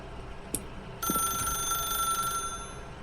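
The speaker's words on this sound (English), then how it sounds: "As Stanley picked up the phone" A telephone is picked up in the video game The Stanley Parable: a sharp click, then a second handling clack, followed by a sustained bright electronic ringing tone that holds steadily before cutting off.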